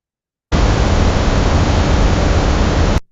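A sonified image plays as a steady, loud burst of broadband static hiss, starting abruptly and cutting off after about two and a half seconds, with nothing else heard.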